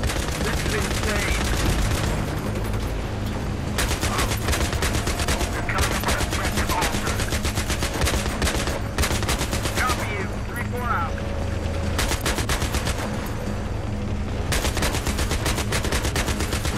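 A .50 caliber machine gun hammers away in Battlefield 3 during a tank assault, firing long, loud, rapid bursts broken by short pauses over a steady engine rumble.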